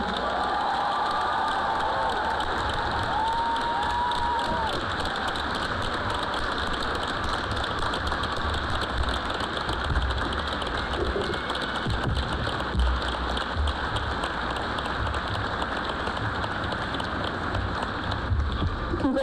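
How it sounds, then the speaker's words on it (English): Sustained applause from a large crowd at a high school commencement honouring four retiring teachers, a dense, even roar of clapping lasting close to twenty seconds. "One last applause for all 4 retirees."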